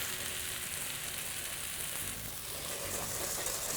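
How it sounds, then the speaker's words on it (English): Cooking white wine hits a hot pan and reduces with a dense, steady sizzle and hiss, a constant broad frying sound holding even throughout with no speech. "So into that pan, I'm going to add some white wine. I'm using a cooking white wine. I'm gonna let that reduce."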